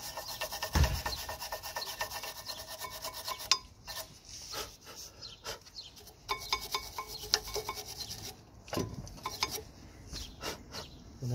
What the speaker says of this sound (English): So just gonna give it a good clean with the wire brush.